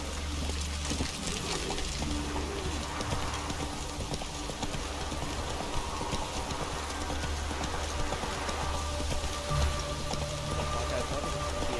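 Steady, dense rain patter in the video game The Witcher 3: Wild Hunt fills the whole stretch, a constant hiss with faint low rumble beneath and no voices.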